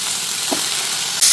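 Spinach (thalinum leaves) sizzling as it wilts in hot coconut oil in a pan, a steady close-up hiss with a faint stir midway.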